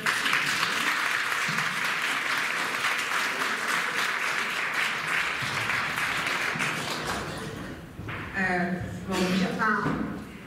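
Audience applause inside a police station event, dense clapping filling most of the stretch before fading, with voices and a speaker emerging near the end.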